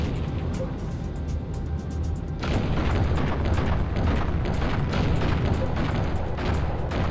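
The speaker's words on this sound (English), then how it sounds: "The enemy is using artillery to hit our base." Heavy artillery shells slam into a base in a military strategy game, a dense rumbling barrage that jumps louder after a couple of seconds and keeps booming in overlapping bursts.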